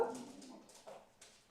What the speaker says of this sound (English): You probably can hear the dog in the background.